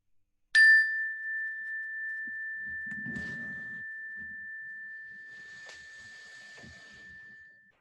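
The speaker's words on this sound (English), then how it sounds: "In a moment, I'll ring the bell, and when I do, I just want to invite you to listen to the sound of the bell" A mindfulness bell is struck once and rings with a clear, pure sustained tone that slowly fades over several seconds, with faint rustling in the quiet room around it.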